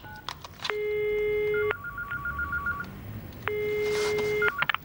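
A telephone number is dialed on a phone, with a clear sequence of sustained DTMF tones and short rapid beeps, a pause, then another long tone and more beeps, fairly quiet and without talk.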